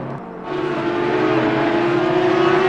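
GT3 race cars in Assetto Corsa Competizione at Kyalami chase each other down a straight, a loud sustained engine drone with a steady high-pitched tone that swells after a brief opening and holds to the end, no speech.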